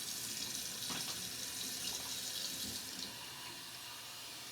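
Warm water runs steadily from a sink tap into a basin, a continuous close hiss and splash that eases slightly toward the end, with no talking.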